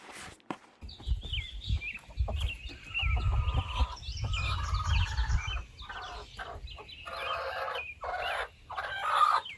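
Hens in a backyard flock clucking and calling, with a rooster crowing partway through, overlapping chicken sounds close by and fairly loud, with no speech.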